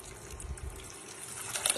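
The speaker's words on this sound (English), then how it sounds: "I'm just going to fill up the can with some water and pour that in there as well" Water poured from a soup can into a bowl of soup for a veggie casserole, a soft continuous trickle and splash lasting under two seconds, fairly quiet with a brief louder gush near the end.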